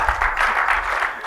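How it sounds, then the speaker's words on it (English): Audience applause during a developer conference talk on documentation, a steady patter of many hands clapping at a moderate distance for just over a second, with no speech over it. "I think they were applauding"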